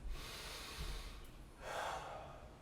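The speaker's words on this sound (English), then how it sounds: "Big breath." A deep breath during a shoulder and upper-back mobility exercise: a close, airy inhale followed by a heavier, audible exhale, quiet and unaccompanied by speech.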